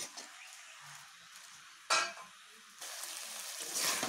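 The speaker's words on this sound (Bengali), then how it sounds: "নুন মিশিয়ে পালং শাকগুলোকে এই মশলার সঙ্গে ভালোভাবে কষিয়ে নেব।" Spinach sautéed with salt and spices in a pan for a spinach and vegetable curry, giving a soft steady sizzle with a sharper burst of stirring midway and brighter frying toward the end, no voices.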